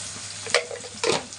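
Okra fries in a pan with a soft continuous sizzle, broken by two short bursts of louder stirring or scraping close by.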